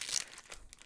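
A foil wrapper on an L5R card pack being torn open by hand gives a short, close crinkling rip lasting under a second, quiet and with no voices.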